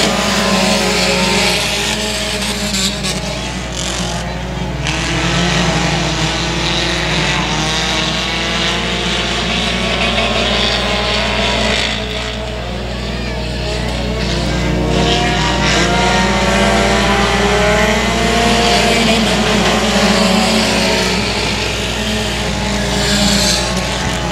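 Race cars at a short-track race at Boyd Raceway roar steadily down the back straightaway, a continuous loud engine drone with no break, swelling slightly as the pack passes.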